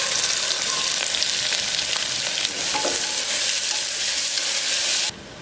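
Onions frying in hot oil with cloves, cinnamon and curry leaves for a mutton pepper fry, a dense, steady sizzle with faint stirring scrapes, close and continuous, dropping slightly at the end.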